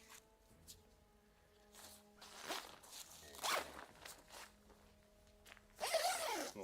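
A backpack zipper pulled shut in a few quick rasping strokes, close and clear, with a longer final zip at the end.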